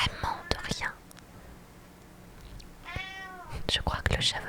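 A house cat lets out a clear, drawn-out meow close by, set between soft whispering in a quiet indoor room.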